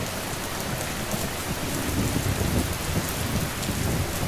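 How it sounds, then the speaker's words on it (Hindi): Heavy rain pours down steadily over a village with farm fields, a dense and constant hiss with low rumbling thunder beneath it. The sound is loud and close throughout, and no voices are heard. "बरसात तो रुकने का नाम तक नहीं ले रही।"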